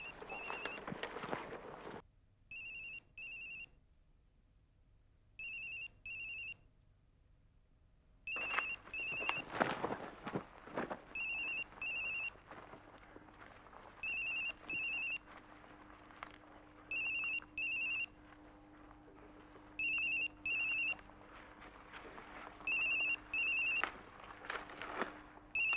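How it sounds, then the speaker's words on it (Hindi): A mobile phone ringtone repeats in short bursts of electronic beeps through the scene, with a busy room tone and occasional background noise between the rings and no speech. "बेल बज रही है।"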